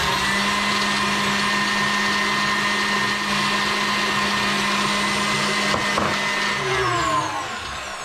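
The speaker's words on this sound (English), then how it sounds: "we're going to go ahead and add the sugar while whipping it to firm peaks." An electric mixer whips cream with sugar toward firm peaks, giving a loud, steady high-pitched motor whir that runs continuously, with a slight dip and fade in the final second.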